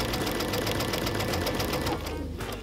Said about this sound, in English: At the sewing machine, sew from the top edge down to the mark with a 2 centimeter seam allowance